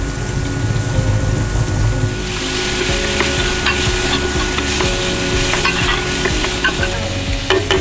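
Thai wagyu beef stir-frying in a hot pan for a black pepper stir-fry, a loud, steady sizzle with scraping and stirring clatter throughout, close and continuous, with no talking.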